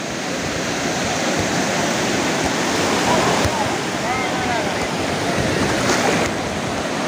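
Ocean waves breaking on the beach at Praia do Forte in Cabo Frio: a loud, continuous roar of surf and rushing water, close by, with wind noise and no clear speech.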